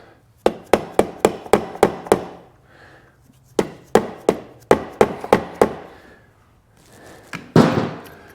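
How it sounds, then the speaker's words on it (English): Rapid series of sharp, dull taps from a dead blow hammer on a Husqvarna FC450 engine top-end part, two bursts of about seven strikes each, close and loud, with a scrape at the end. "Grab my dead blow hammer. Give this thing a few like taps."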